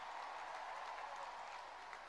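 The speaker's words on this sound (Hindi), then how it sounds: "भाई कितने गोल इन्होंने बचाए हैं, उससे 100 गुना तालियां बजनी चाहिए।" Sustained audience applause at a ceremony honoring Indian Olympic hockey players, a steady wash of many hands clapping throughout, fairly distant and even with no talk.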